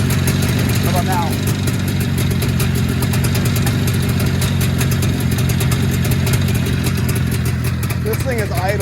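An Arctic Cat Jag 3000 snowmobile engine idles steadily and loudly up close, a continuous mechanical rumble that never lets up.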